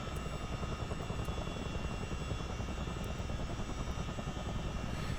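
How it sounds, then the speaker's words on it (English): Twin engines of a CH-47 Chinook helicopter spool up to flight mode, a loud, dense, continuous turbine and rotor roar with a fast pulsing rhythm, steady and close for the whole stretch, no voices. "we're going to bring both engines up into flight mode"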